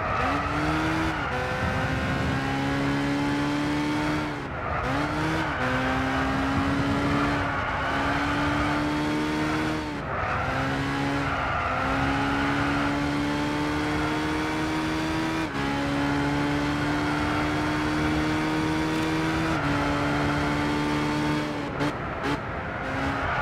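A race car engine in the Gran Turismo 6 video game drones loud and steady, its pitch falling and rising as the car brakes and accelerates through gear shifts, with occasional brief dips.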